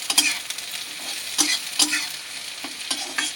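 Shredded cabbage frying in hot oil in a pan, a close, steady sizzle broken by several sharp bursts as the leaves are stirred, with no talking.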